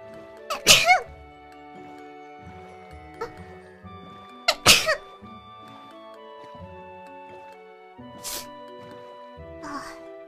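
Sneezes from a Japanese virtual character, two sharp loud bursts followed by a softer one, set over light background music with someone talking between them.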